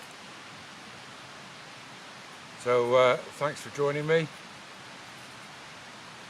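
Steady broadband rush of Dartmoor waterfalls runs throughout at a constant level, with someone speaking briefly over the water midway.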